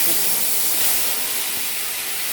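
Ground mustard and poppy-seed paste with green chilli and ginger goes into a hot pan, giving a loud, continuous close sizzle and hiss that holds steady for a couple of seconds.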